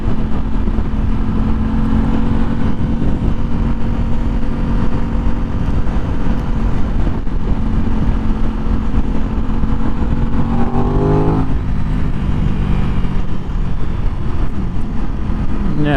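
A motorcycle engine, either an Aprilia RS 660 or a Triumph Street Triple RS, is held loud and close at high revs against the rev limiter, buzzing steadily with a pitch shift near the end.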